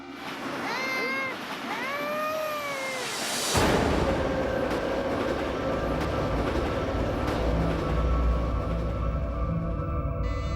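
A third-class train rumbles steadily and loudly along the tracks, preceded by a few seconds of higher, wavering tonal sounds. No one speaks.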